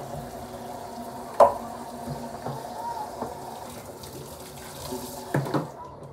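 Tap water runs steadily into a sink while freshly cut and cleaned fish is washed. The flow is continuous and close, with occasional splashes and clinks.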